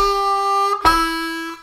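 A harmonica plays a short lick of sustained blow and draw notes, with a brief breathy break between phrases, loud and close with no talking.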